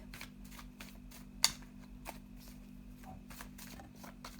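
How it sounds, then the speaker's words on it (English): Soft, rhythmic riffling and flicking of cards being shuffled, quiet and close, with a low steady hum underneath. "I'm just going to have a little shuffle of the black and white Faulkner deck"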